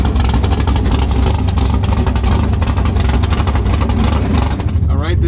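Big-tire Z28 drag race car engine roars loud and close at a drag strip, a dense, harsh continuous rumble with a sharp drop at the end, people talking underneath.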